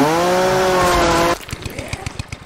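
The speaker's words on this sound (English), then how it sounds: "Oh, there's a chainsaw!" A video game chainsaw roars loudly with a steady high whine, then cuts to a choppy, rhythmic idle chugging, close and alone without talking.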